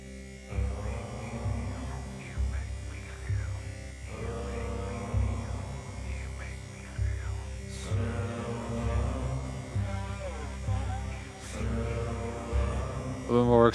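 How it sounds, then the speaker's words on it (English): A buzzing, distorted drone runs continuously through a dense, experimental heavily distorted metal-style music track, layered under loud guitars and drums with steady hum throughout. "Interesting buzzing sound on the sides,"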